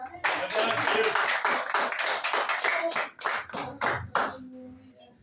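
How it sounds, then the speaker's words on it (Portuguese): A church congregation claps together, a quick run of loud, close hand claps lasting about four seconds that ends abruptly, followed by a moment of quieter room sound with a voice. "As palmas sendo para ele"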